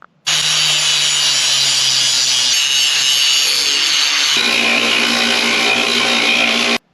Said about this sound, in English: I'm just going to take the points off with a grinder.